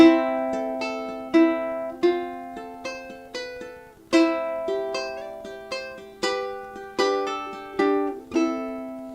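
A ukulele strums bright chord patterns in a steady, lilting rhythm, each strum ringing and decaying, played alone with no voices.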